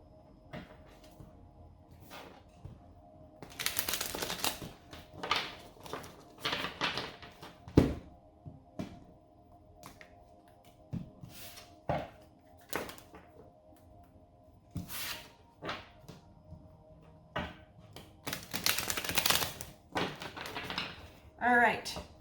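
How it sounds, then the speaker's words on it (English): Repeated papery riffles and soft taps of a tarot card deck being split and shuffled up close, in irregular bursts with brief pauses. "Bear with me while I split and shuffle this deck."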